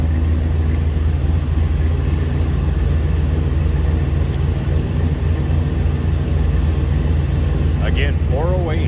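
A 1972 Chevrolet K10 4x4 with a custom-built 408 cubic inch LQ9 LS V8 and a 4L80E automatic idles at close range, giving off a deep, constant rumble with a brief higher squeak near the end.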